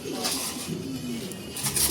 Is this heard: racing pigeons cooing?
yes